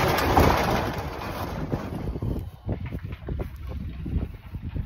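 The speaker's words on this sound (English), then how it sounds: "a little bit cold, windy outside" Wind blowing outdoors on a cold, windy day, a steady broadband rush buffeting the microphone, heaviest at the start and then breaking into gusty, uneven bursts.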